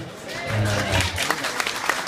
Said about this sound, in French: Des applaudissements qui font chaud au cœur.